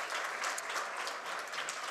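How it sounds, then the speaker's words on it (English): Audience applause for educators at a Sasol TechnoX event session, a steady wash of clapping hands filling the hall at an even level throughout without pause. "They deserve a big round of applause because they are raising a nation."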